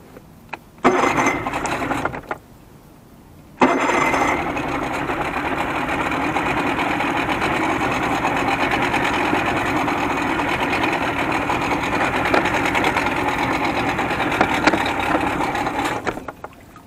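A 1987 Johnson 70 hp outboard motor cranks briefly, drops out for a moment, then catches and runs steadily at a loud, even buzzing drone close by, with no talk over it.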